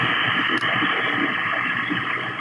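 Steady hiss and crackle of AM radio static on a software-defined radio receiver tuned near 7255, with no clear voice or music coming through.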